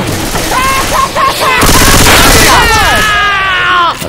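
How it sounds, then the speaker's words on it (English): Rapid machine gun bursts crackle in Left 4 Dead 2, loud and close, mixed with game effects and a voice talking over the gunfire. "Taking the machine gun."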